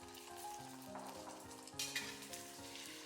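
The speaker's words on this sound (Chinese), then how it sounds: "下入划好的蛋液" Beaten egg hits oil heated in a pan until it is just smoking, giving a soft, steady sizzle and frying crackle that stays quiet and continuous throughout, with no talking.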